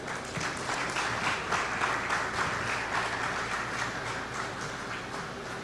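Applause from the audience at the opening ceremony of the Caribbean Broadcasting Union's annual general assembly in Antigua, a steady, dense wash of many hands clapping that holds evenly throughout with no talk over it.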